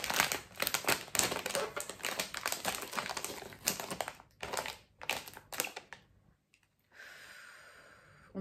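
A bag of sweet chili chips is torn open with crisp, close crinkling bursts of plastic for about six seconds, then falls quiet before a faint hiss returns.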